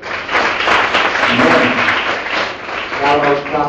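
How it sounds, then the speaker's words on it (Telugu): A church audience at a Baptist youth retreat bursts into loud, sustained applause, dense and steady for several seconds with a slight swell near the end. "ఒకసారి గట్టిగా చప్పట్లు కొట్టండి."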